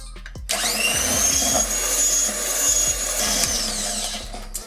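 An electric mixer whirs steadily while beating butter and powdered sugar for a tea cake, a constant high motor whine with rhythmic knocks of the beaters against the bowl.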